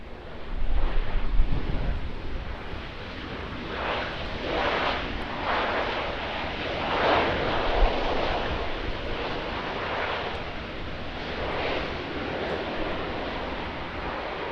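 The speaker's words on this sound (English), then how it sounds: "Here we are in New Zealand, Airbus A320." An Airbus A320 landing at Auckland Airport, a broad roaring rush of engine and airflow noise sustained throughout, swelling slightly then settling, with wind buffeting the microphone.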